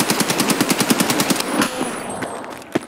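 Automatic gunfire in Escape From Tarkov rattles out a rapid string of about fifteen evenly spaced shots, then stops, leaving a ringing tail and one last sharp report.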